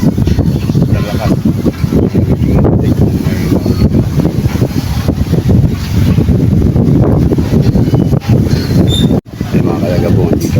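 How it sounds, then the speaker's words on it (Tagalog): Strong wind buffeting the microphone beside the Pasig River, a loud continuous low roar with gusts throughout, while people talk over it. "Malakas ang hangin."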